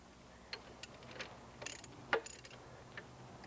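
Bolts are tightened on a REED gunite machine with a wrench, giving sparse metallic ratchet clicks and clanks close by. A few sharper metal knocks stand out over a quiet background.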